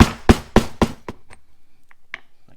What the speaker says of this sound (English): we're going to take our punch and go ahead and hammer it in